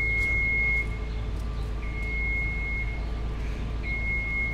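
Reversing alarm on a New York street in Brooklyn near the Navy Yard, a steady tone beeping repeatedly at an even pace over a constant low traffic rumble.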